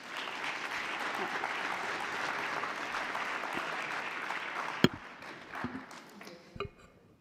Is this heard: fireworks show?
no